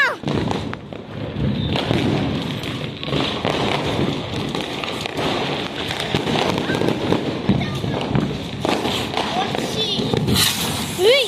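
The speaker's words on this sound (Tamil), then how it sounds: "இப்ப என் தம்பி தான் வெடிக்க போறா" Diwali firecrackers set off by a brother, a dense run of crackling bursts and thuds under steady talk and excited voices.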